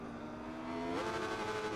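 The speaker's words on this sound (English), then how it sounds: "It's in the rev limiter there on the R1, which is a very beautiful sounding bike." A Yamaha R1 racing motorcycle engine bangs against its rev limiter during a race, a steady high-pitched engine drone that jumps in pitch partway through and holds there, heard at a distance and fairly faint.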